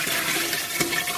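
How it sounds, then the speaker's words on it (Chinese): Water poured into a large pot of braised pig trotters with spices, a short steady rushing gush of liquid, close and moderately loud. "然后咱们给锅里边稍微来点水"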